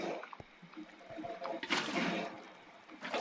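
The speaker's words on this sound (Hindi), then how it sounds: "तो अभी फिर से ले आते हैं पानी, हर तरफ लगा देते हैं।" Water being placed in Minecraft: a soft splashing, trickling gush in a blocky video game, with a brief burst in the middle and another near the end, fairly quiet throughout.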